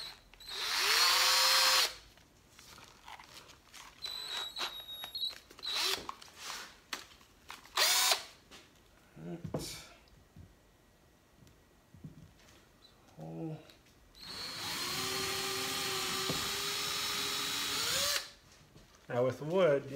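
A power drill bores into a wooden rake handle in several loud whirring bursts, short and long, separated by quiet pauses and handling noise, with occasional speech between.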